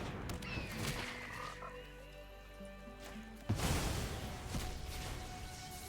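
Frog croak from the MTG Arena digital card game during a Bloomburrow draft, heard as a short croaking call over layered game music and effects, followed by a louder burst of game sound.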